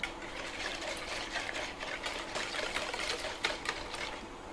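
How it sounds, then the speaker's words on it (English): Eggs being whisked by hand in a bowl, a fast continuous rattling scrape of wire against the bowl, close and steady, with no voices. "So just using a whisk, just break down those eggs a little bit."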